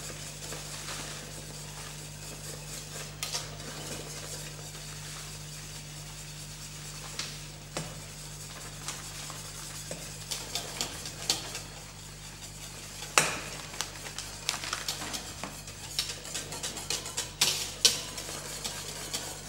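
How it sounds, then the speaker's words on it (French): Flan dessert powder being stirred vigorously into boiling milk in a pan, a steady scraping and swishing that carries on throughout, with a faint low hum beneath and sharper clinks toward the end. "j'ajoute la poudre entremets directement dans le lait bouillant. Remue énergiquement pour éviter les grumeaux"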